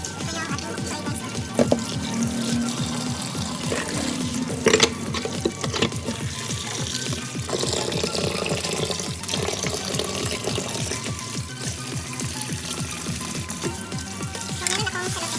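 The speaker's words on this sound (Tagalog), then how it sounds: "hugasan natin ang ating mga vegetables" Tap water running while vegetables are washed, a continuous splashing flow with rhythmic sloshing and occasional knocks, fairly loud and close, with no clear speech over it.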